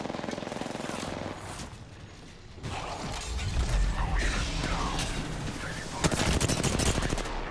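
Rapid bursts of video-game gunfire in Apex Legends, loud and close, crackling in repeated volleys with mechanical clatter between them and a sharp burst near the end.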